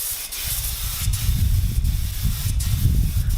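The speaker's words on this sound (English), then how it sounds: "And spraying it up with furniture lacquer." Furniture lacquer hisses steadily from a spray can onto a walnut and maple double-stacked jewelry box, a continuous close spray with brief pauses, backed by low wind rumble outdoors.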